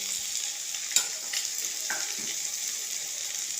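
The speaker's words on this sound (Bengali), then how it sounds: "এবারে নেড়ে নিচ্ছি।" Food frying in oil with salt sizzles steadily in a pan while it is stirred, with a few light scrapes and clinks, close and alone.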